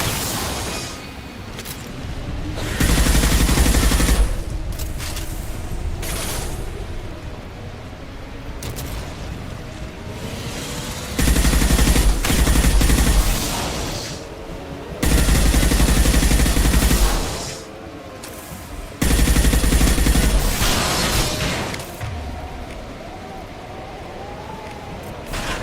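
Gunfire in a Mass Effect 2 Legendary Edition firefight, loud bursts of shooting coming in repeated blocks with quieter stretches of combat noise between them.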